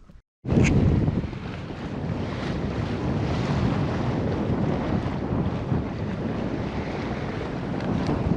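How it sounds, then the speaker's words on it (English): A steady 10-knot southwest breeze roars across the microphone aboard a sailboat crossing Lake Erie, a loud, continuous rush of wind and water noise. It starts abruptly after a brief quiet moment and holds level to the end. "Wonderful sailing this evening. It's a very, very, very steady 10-knot breeze out of the southwest."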